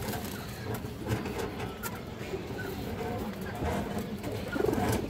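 Pigeons kept for sale, including a red-necked female, coo in low, repeated murmurs against a busy background of handling noise.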